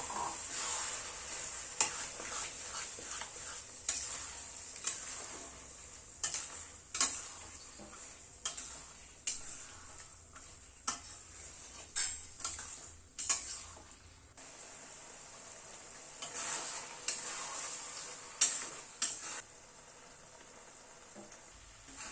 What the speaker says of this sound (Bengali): এবার মটরটাকে এর মধ্যে দিয়ে দিচ্ছি। মটরটা দিয়ে আবার একটু কষাবো।